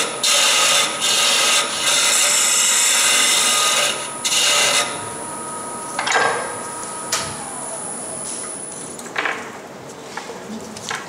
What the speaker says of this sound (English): They sand these bottom sides with 150 and then 320